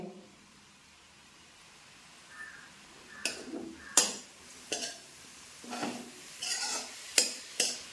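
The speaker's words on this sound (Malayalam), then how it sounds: "വീണ്ടും ഇങ്ങനെ ഇളക്കി കൊടുക്കാം" A spoon scrapes and knocks against a pan in several quick bursts as a cabbage-style vegetable thoran is stirred, with faint frying underneath and no talk.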